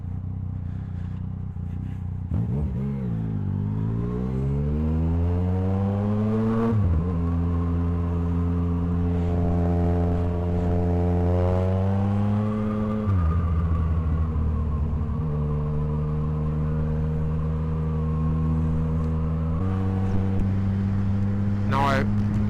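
Yamaha MT-09 SP motorcycle fitted with a Blackwidow exhaust, rolling in second gear, gives a loud, deep engine note that rises and falls steadily through repeated revs for over twenty seconds, close up, with no talk over it.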